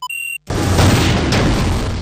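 Explosion in the space combat game Wing Commander: Secret Ops, a sudden loud boom after a short electronic beep, followed by a sustained roaring blast and rumble that fills the rest of the clip.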